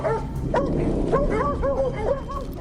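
Bull Arab hunting dog barking and yipping in quick repeated bursts, close and loud, with whimpering whines between barks.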